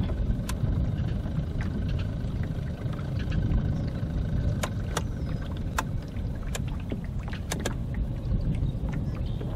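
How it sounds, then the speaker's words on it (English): Outboard motor on a Hobie Pro Angler 14 fishing kayak running steadily while being cleared of tangled weeds, a low continuous drone with scattered sharp clicks and knocks on top, no talking. "Let's see if we could clear the engine."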